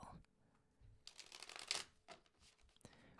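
Tarot cards being shuffled close up in a few quick riffling bursts, with quiet pauses between them.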